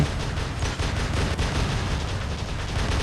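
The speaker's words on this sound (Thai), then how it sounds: "เฮ้ยอะไรยิงหลัง อะไรยิงหลัง" Heavy gunfire from robots in the War Robots video game, a dense, continuous barrage of shots and blasts with rumbling impacts, loud and sustained throughout with no clear pauses.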